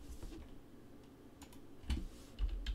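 Computer keyboard keys tapped in a few short bursts during an engine control setup, close and moderately loud, with a brief pause between clusters of clicks.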